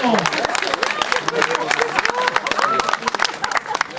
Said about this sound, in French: accueillir avec un tonnerre d'applaudissements le vainqueur de cette épreuve, Lionel Simon.